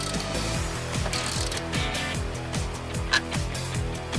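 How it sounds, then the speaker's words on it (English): A ratchet loosening the strut top mount bolts under the bonnet of a Mercedes makes fast, steady mechanical clicking that continues throughout, close and alone. "Under the bonnet are the 3 bolts holding the strut top mount to the body. I'll loosen all 3."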